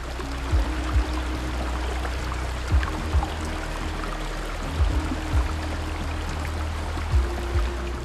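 A stream rushes and burbles steadily, with a few soft low thumps scattered through it, nearby and no voices.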